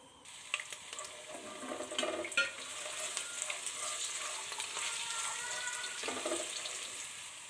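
Quiet frying hiss in a pan as julienned ginger is stir-fried among cloves for a dhaba-style mash daal, with scattered stirring scrapes and clicks throughout.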